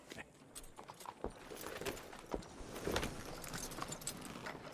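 Horse hooves clip-clop on the ground in the Red Dead Redemption 2 video game, a steady run of sharp knocks with some jingling tack, moderately close over a constant background bed.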